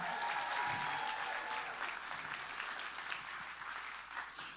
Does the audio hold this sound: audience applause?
yes